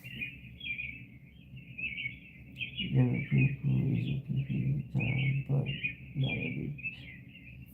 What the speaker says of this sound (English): Now you can hear birds in the background.